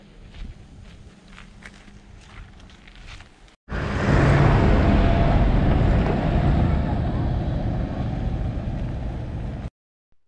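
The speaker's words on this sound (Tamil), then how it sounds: "இதுதான் பார்க்கிங்லேருந்து கிரீனனுக்கு கம்யூட் வசதிக்காக இங்கே யூஸ் பண்ணப்படுற வண்டி" A Sandormen vehicle ferrying visitors between the parking area and Grenen at Skagen, Denmark, passes close by as a loud, broad rumble lasting several seconds after quieter footsteps and wind on sandy ground.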